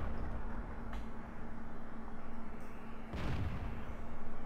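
One sharp, heavy shell impact on a Bulldog tank in World of Tanks bursts out over a constant rumbling engine drone, with a faint tonal hum running underneath.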